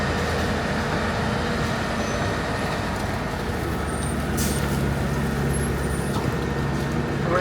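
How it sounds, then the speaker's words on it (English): A Metro city bus pulls in at a Washington DC street stop with a steady, heavy engine rumble and traffic hum that stays constant and fairly close throughout. "And here comes our bus."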